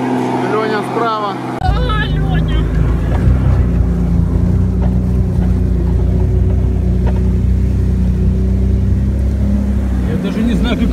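A Toyota 4Runner forced through deep off-road water with the water up over its hood: a loud, continuous churning roar of engine and surging water with heavy low rumble, and voices talking faintly in the first couple of seconds.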